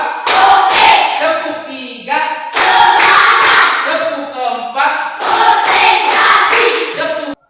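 Classroom group of students clapping together in a rhythmic counted pattern during an ice-breaking game, loud bursts of hand claps repeating in three sections with short pauses between.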